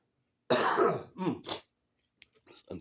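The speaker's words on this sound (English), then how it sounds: "Okay, I'm going to cough." A loud, close cough, then two shorter coughs, and after a pause a few softer throat-clearing rasps.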